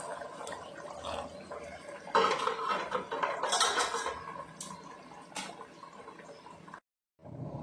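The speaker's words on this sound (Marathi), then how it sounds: "ते यामध्ये ओतून घ्यायचं आहे गरम पाणी." Hot water poured into a cooking pot for ragda, a steady liquid wash with metallic pot clatter that swells midway and ends in a short pause.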